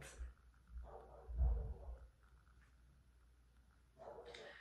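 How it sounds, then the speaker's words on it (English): A dog gives a few low, muffled barks and grumbles at a distance, spaced out over a quiet background. "Don't mind the barking, guys, if you can hear it."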